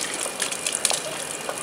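Water gushes steadily from a public stone fountain in Rome, a close, continuous hissing stream with no talk over it.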